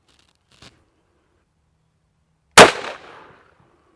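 A single loud gunshot from a Cimarron BadBoy firing a 260-grain round at a target: a sharp, close crack with a short ringing decay, preceded by a faint click.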